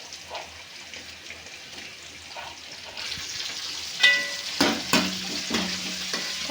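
Tomatoes added to softened onions sauté in a pan for mullangi (radish) sambar, with a steady sizzle and scraping stirs that grow louder and clatter partway through, close up and with no voices.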